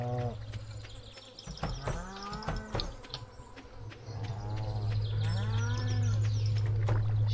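Farm cows in the video game Stardew Valley let out several drawn-out moos, close and clear, over a constant buzzing of insects or flies.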